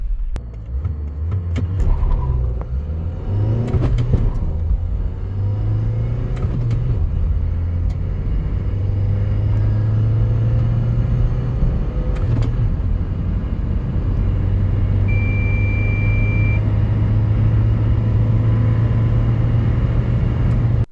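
A Nissan Primastar 2.0 dCi 150 van accelerates hard from 0 to 100 km/h, its droning hum climbing in pitch, dropping briefly at each gear change, then rising again as it keeps speeding up.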